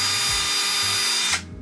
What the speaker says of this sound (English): Everyone needs an electric cordless drill.